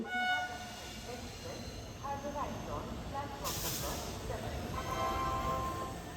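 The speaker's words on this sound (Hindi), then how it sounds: "जो ट्रेन 4:30 बजे आने वाली थी, अब वो 6:30 बजे आई, लेकिन फाइनली आ ही गई" A passenger train rolls into a station in Kolkata, steady rumbling and hissing with squealing wheel tones throughout, loud and close, a short bright burst of noise midway, while people talk over it.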